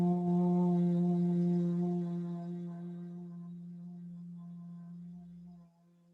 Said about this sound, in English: Brahmari is the bumblebee breath, and it is simply humming on the out breath.